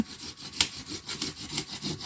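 A hand saw cuts through a bamboo clump in steady back-and-forth strokes, a close, rasping wooden grind with one sharper crack partway through.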